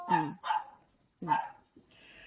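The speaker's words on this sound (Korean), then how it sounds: "강아지가 너무 짖어서 뭐 해야 될지 순간 까먹었어요" A puppy indoors gives three loud, close barks in quick succession, then a softer trailing sound fades out.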